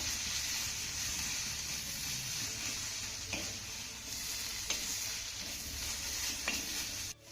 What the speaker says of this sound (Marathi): हा दोडका आपल्याला पुन्हा दोन ते तीन मिनिटं चांगला परतून घ्यायचा आहे त्यासाठी गॅसची फ्लेम आपल्याला मीडियम करायची आहे